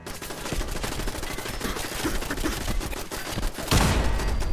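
Automated turrets in Fallout 4 open up in a continuous, loud burst of rapid gunfire lasting the whole stretch, with a heavier blast near the end and no talking over it.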